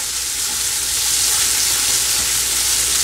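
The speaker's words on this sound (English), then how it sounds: "saute it well at least one minute our onion and green peppers are cooked well" Onion and green peppers for a prawn curry sauté in a pan with a loud, continuous, even frying hiss and no voices.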